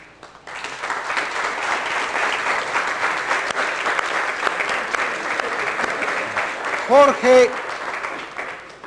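A university physics class bursts into sustained applause for a classmate, dense clapping from many hands throughout, with a couple of short voiced whoops or cheers near the end.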